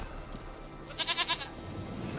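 Single quavering goat bleat from the Witcher 3 game, a pulsing tremolo call of about half a second standing out over a quiet ambient background.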